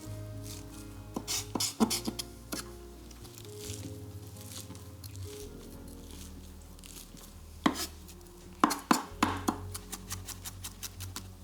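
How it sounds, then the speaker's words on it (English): A kitchen knife presses and crushes truffle, salt and garlic into a paste on a board, giving irregular clusters of sharp taps and soft squishing scrapes with quiet pauses between them, close up and without speech. "So just with your knife, just sort of crush it all together."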